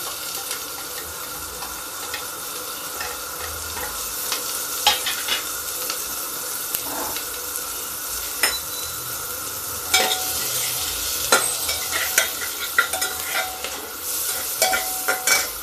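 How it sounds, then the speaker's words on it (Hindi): Cumin seeds and chopped onion frying in very hot oil in a pan, a steady loud sizzle with scattered crackles and pops, plus occasional clinks of a stirring spoon, no talking. "तेल ज़्यादा गर्म है, जीरा तड़क जाएगा, इसलिए हम इसमें ये देखिए प्याज डाल दें"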